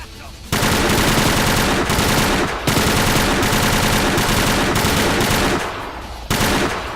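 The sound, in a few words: machine gun fire in the video game Übersoldier 2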